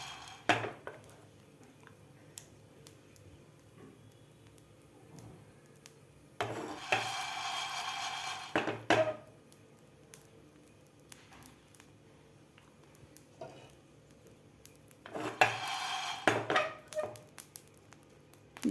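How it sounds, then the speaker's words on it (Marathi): Jowar (sorghum) grains popping in a hot pan: quiet scattered crackles and ticks, with several denser bursts of popping and metallic pan scraping spread across a long stretch of near-silence. "तर ज्वारी फुटत आहे, तर यावर लगेच आपल्याला झाकण ठेवायचं आहे."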